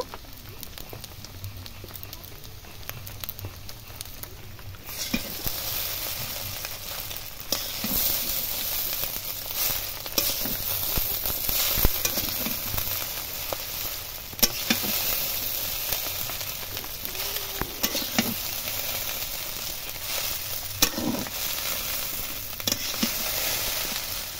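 Egg chow mein with tomato sauce sizzles and fries in a pan, a continuous bright hiss with occasional clinks and stirring scrapes, close and steady throughout.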